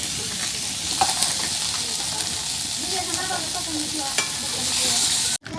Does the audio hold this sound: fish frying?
yes